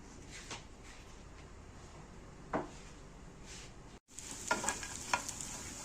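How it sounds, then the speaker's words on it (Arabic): Small pieces of bread frying in oil for Egyptian fatta give a soft, steady sizzle with occasional faint clicks of stirring; after a brief drop the frying hiss returns brighter and a little louder. "هحطه بقى في الزيت ياخد تحميصة كده"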